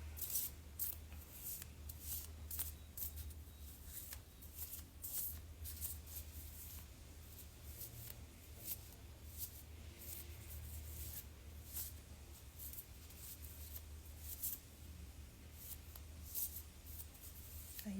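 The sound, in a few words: shuffling oracle cards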